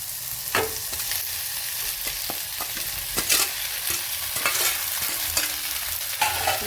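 Drained pasta is stirred into sautéed onion and tomato in a hot pan, with steady sizzling and frying under repeated scraping and clacking strokes of a spoon, close and clear with no talk.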